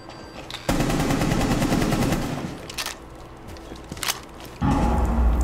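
Automatic gunfire in a first-person shooter video game comes in rapid bursts, with loud rattling volleys separated by short pauses and a final burst at the end.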